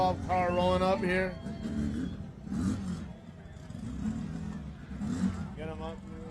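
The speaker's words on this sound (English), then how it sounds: "Got another Class 12 car rolling up here." A Class 12 off-road race car idles and rolls up slowly at Baja 500 contingency row, its engine rumbling low and steady under nearby talk and crowd noise.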